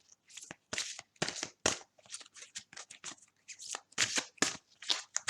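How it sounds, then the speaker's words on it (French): A deck of oracle cards by Tony Carmine Salerno is shuffled to draw a single advice card, heard as close, crisp bursts of riffling and slapping in uneven clusters with quiet gaps between them. "on va tirer une carte conseil dans le jeu de Tony Carmine Salerno."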